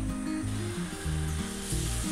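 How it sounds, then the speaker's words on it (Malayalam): A steady hiss and bubbling of water boiling in a covered pan of crab, with a low humming underneath, continuous and close. "ഇപ്പം ഇതിലൊഴിച്ചേക്കുന്ന വെള്ളം ഒന്ന് തിളച്ചിട്ടുണ്ട് കേട്ടോ"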